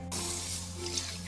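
Water pours steadily from a tap into a bowl of raw rice that is set to soak for appam batter, a continuous close splashing rush with no talking.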